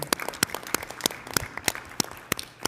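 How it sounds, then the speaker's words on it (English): A handful of people at a regular board meeting give a sparse, faint round of claps, individual hand claps standing out clearly with small gaps between them. "And another round of applause is in order, okay?"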